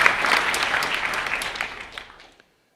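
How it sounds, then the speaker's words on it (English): Audience applause at a Silicon Harlem Next-Gen keynote event, a full hall clapping loudly with a few cheers, then gradually thinning and fading out into silence. "Let's give them a round of applause."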